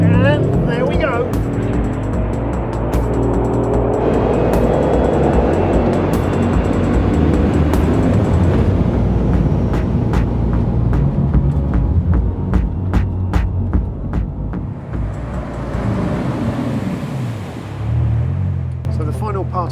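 A Bugatti Chiron hypercar fires up from a push-button start, its engine settling into a deep, throbbing run with a steady low hum that swells and eases, heard close and loud.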